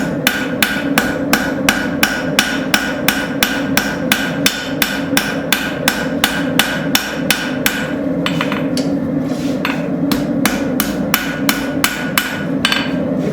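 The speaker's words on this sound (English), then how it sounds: "And continue to use my rounding hammer." A rounding hammer strikes a railroad spike over and over as it is forged into a knife, with fast, even, ringing blows on the anvil that run steadily for the whole stretch, loud and close.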